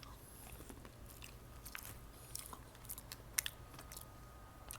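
Close, quiet crunching bites and chewing on garlic butter corn, a few crisp snaps standing out over soft steady mouth sounds, with no talking.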